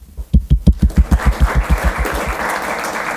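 Audience applauding in a lecture hall, roughly a dozen sharp claps in a steady rhythm that soon blur into a softer, sustained patter of clapping.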